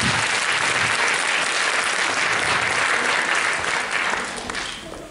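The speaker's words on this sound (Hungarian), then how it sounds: "tapsoljuk meg, bátorítsuk az ő munkájukat" An audience claps for performing kindergarten children in a sustained, dense round of applause that fills the room, then thins out and fades near the end.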